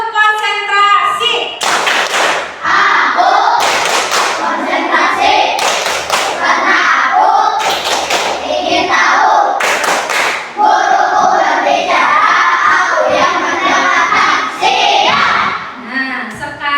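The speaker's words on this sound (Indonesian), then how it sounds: "Tepuk konsentrasi." Children in an Indonesian classroom perform a rhythmic clapping chant, bursts of loud group claps alternating with chanted voices in a repeating pattern, close and energetic.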